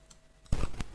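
Keys clacking on a computer keyboard while a COUNTIF formula is typed: a soft tick, then two sharper, louder key strikes close together, near and without talk.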